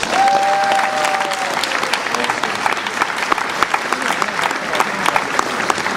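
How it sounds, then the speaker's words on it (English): Applause for schoolteachers from a crowd of parents, a dense steady round of clapping that holds strong throughout, with a brief whistle near the start. "So let's give them a round of applause"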